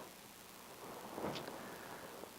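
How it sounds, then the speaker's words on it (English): Rain with a low rumble of thunder, a faint steady hiss of falling rain beneath a soft distant roll that swells briefly in the middle. "So right now it's raining outside."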